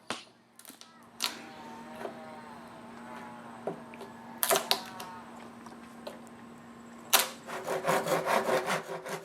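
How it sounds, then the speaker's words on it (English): A chisel levering and popping out chunks of wood between saw cuts, sharp scattered cracks and scraping taps, close and fairly loud, with a steady hum underneath and a denser run of rasping strokes at the end. "the bulk of the wood is then popped out using a chisel"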